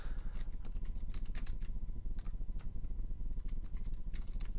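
A name is typed on a computer keyboard in quick, uneven bursts of close, crisp key clicks, with a short pause partway through and no speech.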